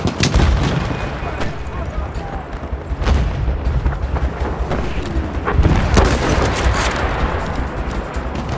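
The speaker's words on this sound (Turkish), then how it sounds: "Makinalı tüfek." Machine gun fire in a Battlefield 1 battle rattles in repeated loud bursts amid booming artillery and explosions, a dense, chaotic wartime din that fills the whole stretch.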